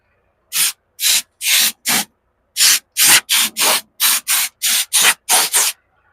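An air blower cleans a truck cab floor in about fourteen short, loud whooshing blasts, each lasting under half a second, with brief gaps between bursts and no talking.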